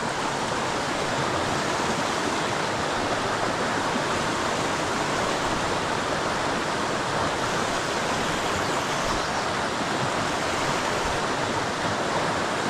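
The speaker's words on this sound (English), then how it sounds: "There's a little eddy right there where the water is circling back." A mountain stream in Southern California rushes steadily around rocks beside a fishing hole, a dense, unbroken wash of flowing water that stays loud and close throughout with no voices.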